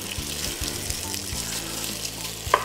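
Pork pieces brown in a small amount of butter in a pan for traditional coq au vin, giving a steady, faint sizzle with no voices.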